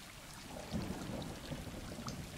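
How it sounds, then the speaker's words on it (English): Rain falls steadily in the video game Stray, with a low rumble of thunder rolling underneath, soft and fairly faint throughout. "we start off with some rain"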